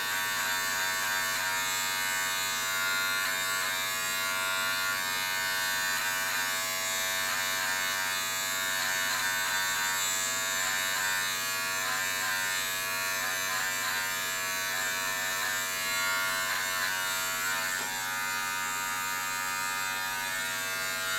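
Electric hair clippers buzz continuously as they trim stray, sticking-out hair during a self-haircut, a loud steady drone held close throughout with no talking.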